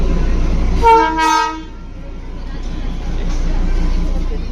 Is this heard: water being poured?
no